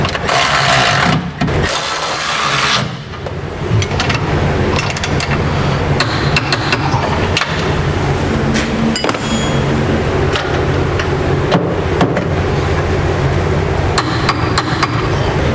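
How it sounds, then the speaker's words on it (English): Wrenching and clanking on the gooseneck hitch side-plate bolts under a 2008 Chevrolet Silverado, with loud, dense tool impacts and metallic knocks running steadily throughout, no talk. "we need to tighten down and torque the bolts that secure our side plates to our cross rails"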